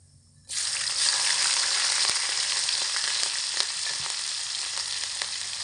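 Whole cumin, grated ginger and chopped green chillies hit hot oil for vegetarian ghugni, bursting into a sudden loud sizzle that holds steady with faint stirring clicks.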